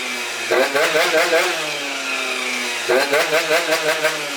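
Malaguti Phantom F12 race scooter with its small two-stroke engine running close by: a loud, buzzy idle broken by two quick bursts of revving that climb and fall.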